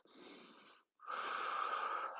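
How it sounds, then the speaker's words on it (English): A deep, forceful breath is pushed out through the mouth during a Pilates core and glutes workout, two loud airy rushes split by a short silent pause, close and alone. "You can breathe out the mouth like you're breathing out a straw."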